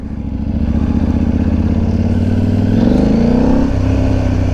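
KTM 890 motorcycle engine on a ride, a loud, steady, close drone with a throbbing low rumble that rises slightly in pitch partway through as the bike accelerates.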